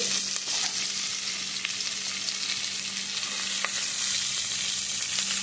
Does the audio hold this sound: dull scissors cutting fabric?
no